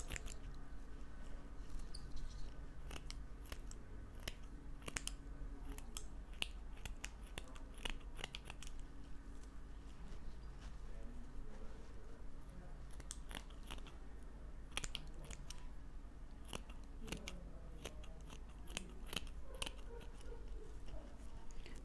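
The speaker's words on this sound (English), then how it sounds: "Always use paper scissors because this will blunt your fabric scissors." Quiet, repeated snips of scissors cutting paper, crisp little clicks at an irregular pace over a low steady hum, with no talking.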